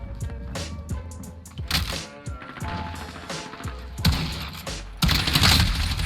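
Gunshots in Modern Warfare ring out as a string of sharp close reports, growing into heavier rapid bursts near the end, loud and alone without speech.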